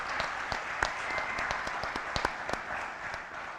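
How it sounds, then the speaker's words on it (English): An audience at a sports hall of fame awards ceremony applauding, a steady wash of scattered claps heard from a distance, fairly quiet, with no talking. "So give yourself a round of applause."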